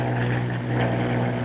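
A Bell P-39 fighter's propeller engine drones steadily in flight, a loud, continuous airscrew roar with no talk.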